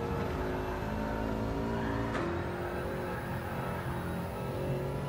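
A car drifting in a racing video game on a track run in reverse, with a steady engine drone throughout and a brief sharp tire squeal near the middle, loud and continuous with no talk.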